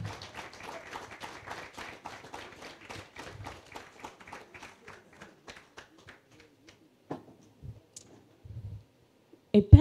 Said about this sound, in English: Please clap for them as they come up.